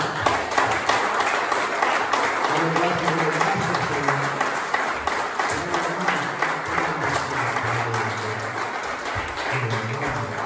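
Applause from a church congregation, sustained and fairly loud, with a low hum or murmur running beneath the dense clapping.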